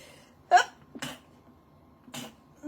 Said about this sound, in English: Bit of a sneeze.